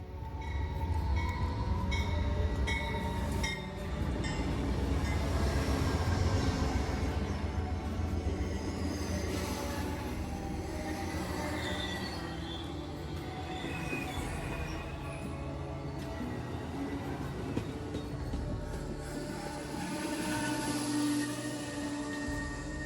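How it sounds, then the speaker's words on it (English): The California Zephyr passenger train rolls into Galesburg station steadily, wheels rumbling and squealing against the rails, with metallic screeches rising over a continuous loud rumble. "our train, number 5, the California Zephyr, came rolling in to Galesburg."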